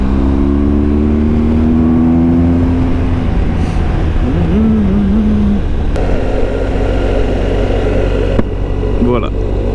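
A motorcycle rides along a road, its engine droning steadily and rising in pitch as it accelerates, with constant wind rumble close to the rider.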